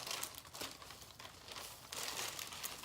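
An acrylic pour being peeled away from parchment paper gives faint, steady crinkling and crackling close by, with a few slightly louder rustles and no voices.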